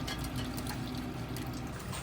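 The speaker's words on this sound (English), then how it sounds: "the water starts to pour out of here" Water pouring steadily from a ceramic toilet tank during a dual flush valve repair, a continuous broadband splashing and trickling that stays even in level throughout, with no talking.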